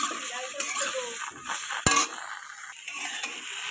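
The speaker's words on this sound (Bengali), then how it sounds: "এটাকে ভালো করে নাড়তে হবে" A utensil stirs a salted jujube (kul) pickle mixture in a pot, with soft scraping and shifting sounds and a sharp clink against the pot midway; quiet, close and intermittent.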